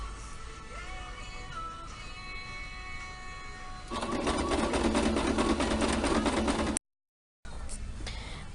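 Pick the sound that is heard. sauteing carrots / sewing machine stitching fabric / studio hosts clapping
sewing machine stitching fabric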